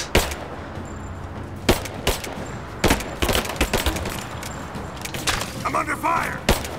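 Gunfire rings out in Rise of the Tomb Raider, scattered sharp shots and cracks at irregular intervals amid combat noise, with a voice talking over parts of it.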